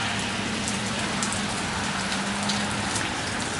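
Heavy rain pours steadily during a storm in Richland, Washington, over a flooded street intersection, a dense, even hiss of downpour and raindrops on surfaces filling the whole stretch without pause.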